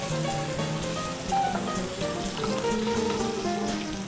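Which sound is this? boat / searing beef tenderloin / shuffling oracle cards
searing beef tenderloin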